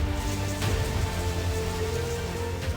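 Heavy rain pours steadily onto a makeshift hut shelter on a survival show set, a dense continuous hiss and patter with a few louder drips, no voices.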